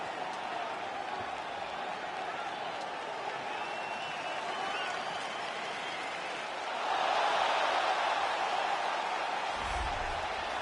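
Crowd noise in the UFC 3 video game as a fighter walks to the octagon: a dense, steady roar of an arena audience that swells louder partway through, with a commentator talking over it.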